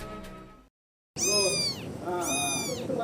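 A rescued cat meows twice in loud, close, drawn-out calls, the first ending abruptly before a short silence, with the second meow following strongly and then trailing into a softer one.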